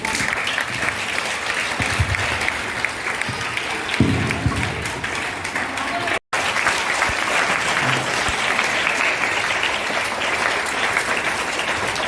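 Audience at a Teej celebration applauding, dense continuous clapping that stays loud for the whole stretch with a brief break midway and a few scattered voices underneath.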